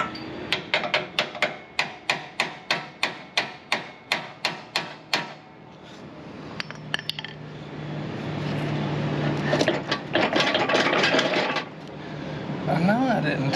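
A hammer strikes a John Deere L120 riding mower about fifteen times in a sharp, evenly spaced run of metallic blows, followed by shuffling, scraping work noise and brief bits of talk.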